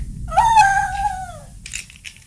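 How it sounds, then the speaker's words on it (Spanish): A dog howls in a long rising-and-falling wail lasting about a second, fairly close and loud, followed by a couple of faint brief noises. "¿Qué es ese perro?"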